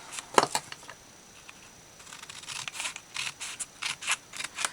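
Scissors snipping through a paper craft tag for a Christmas tag embellishment book, a short burst of close, crisp cuts early, then a longer run of rhythmic snips.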